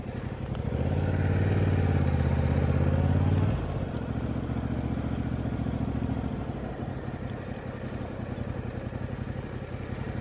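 Motorcycle rumbling close by during slow riding-test manoeuvres, engine revving steadily higher for a few seconds, then dropping to a lower chugging idle and putter that carries on to the end.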